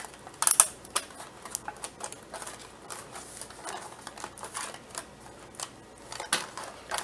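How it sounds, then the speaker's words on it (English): Marker scratching and tapping against a food container while a label is written, a run of short uneven strokes and clicks at close range with a louder burst near the start and no talking. "And I'll just write on it what it is."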